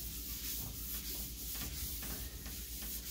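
Rag wiping dust off a freshly sanded kitchen cabinet surface, a continuous soft swishing rub in repeated back-and-forth strokes, close and moderately quiet over a low steady hum.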